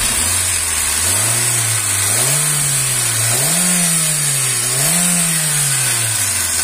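A 2010 Kia Picanto engine with an oil seal leak near the timing belt idles loudly and close, then is revved in three smooth rises and falls in pitch.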